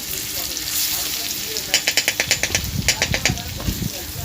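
Crushed garlic frying in oil in a pan gives a steady close sizzle, joined partway through by a quick run of rhythmic scraping strokes, as if stirred with a spatula.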